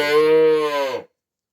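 Brown Swiss bull calves give a single loud, drawn-out moo lasting about a second, close by and alone, ending abruptly in silence.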